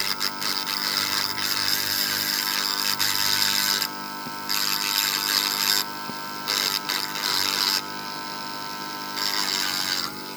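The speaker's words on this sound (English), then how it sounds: "let's try with the Dremel on this side" Dremel rotary tool grinding opal, a loud, continuous high-speed motor whine with bursts of harsher grinding that cut in and out as the bit presses on the stone, close up.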